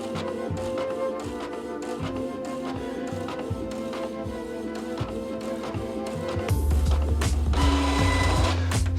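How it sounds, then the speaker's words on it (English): A printer feeds and prints an image onto an acetate sheet, with rhythmic mechanical clicks and a whirring print head that give way to a louder, rougher grinding and rolling as the sheet moves through. "it should, if all goes well, go through the printer and you'll have the image printed onto the acetate"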